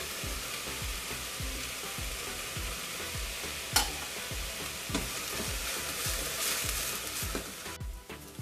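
Onions and green pepper sauté in a pan as the base for stuffed bitter gourd gravy. A soft, steady sizzle sits under regular low rhythmic thumps, with a few sharp clicks and no speech.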